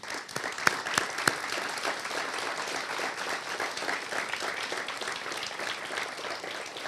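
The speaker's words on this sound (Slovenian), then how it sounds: "lahko vsi mi vam damo en zelo iskren aplavz" Sincere audience applause at a gathering honoring a coronavirus call center, even continuous clapping from a room of people, with a few louder nearby claps early on.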